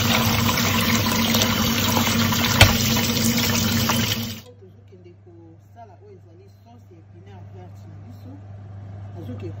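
Tap water running loudly and steadily while spinach is rinsed in a home kitchen, then cutting off abruptly partway through, leaving quiet room sound with a faint voice.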